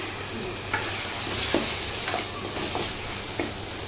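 Chili powder, garam masala and coriander powder are stirred into cooking tomatoes in a pan, with a soft continuous sizzle and a few spoon scrapes and taps. No one talks.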